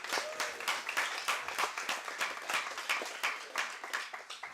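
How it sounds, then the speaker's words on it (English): Applause from a small crowd at an Astronomy on Tap Seattle talk, with distinct claps in uneven rhythmic bursts, fairly close and moderately loud, and no talking. "Let's give him another round of applause."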